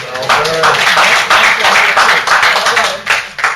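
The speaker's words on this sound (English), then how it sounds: "So let's give him a round of applause." Audience applause at a Watch Night Freedom Eve event, loud and dense clapping from a crowd that swells and holds steady, with a voice briefly audible beneath it.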